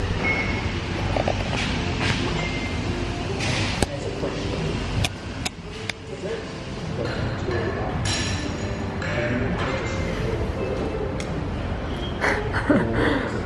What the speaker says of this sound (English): Literally the longest train ever.